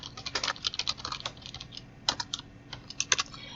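Rapid keyboard clatter as Java code is typed on a computer keyboard, irregular bursts of close, crisp keystrokes with short pauses between words, no voices.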